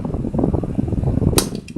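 A 12-volt DC electric fan runs with a steady, close, fairly loud whirring hum throughout, broken near the end by one sharp mechanical click.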